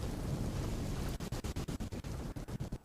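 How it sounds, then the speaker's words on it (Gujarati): Heavy rain pours down in a dense, steady hiss, later broken by quick rhythmic gaps. "ધોધમાર વરસાદ ભાવનગરના જેસરના ગ્રામ્ય વિસ્તારોમાં વરસી રહ્યો છે"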